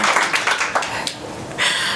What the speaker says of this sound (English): Y'all can clap again.